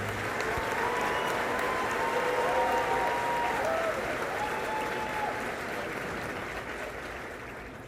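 A high school graduation audience applauds steadily, a dense wash of clapping from a large crowd that holds for several seconds before slowly fading.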